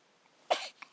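A baby sneezes once, a short sharp burst of breathy noise, followed by a small faint catch of breath in an otherwise quiet indoor setting.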